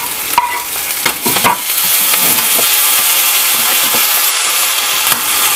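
Coriander leaves stir-fried in a hot pan, with a steady bright sizzle and hiss and a few clinks and scrapes of stirring near the start, close and fairly loud, with no talking.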